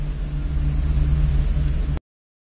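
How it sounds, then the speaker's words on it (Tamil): Kitchen mixer grinder grinding tamarind and salt into a paste in its jar: a loud, steady motor whir with a low hum, running for about two seconds and then cutting off abruptly. "சேர்த்துட்டு இதை வந்து நம்ம மிக்சி ஜாரில் போட்டு நல்லா வந்து பேஸ்ட்டாக நம்ம அரைச்சி எடுத்துக்கணும்."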